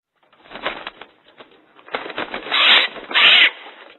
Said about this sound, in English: Wow! A parrot.